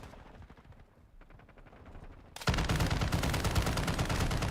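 Light machine gun in Modern Warfare 2 opening up in a loud, rapid sustained burst after quieter scattered shots and background game noise.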